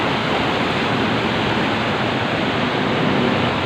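Heavy rain and rushing floodwater fill a street in Paco, Manila, with a dense, unbroken roar of hiss and wash that stays loud and even throughout.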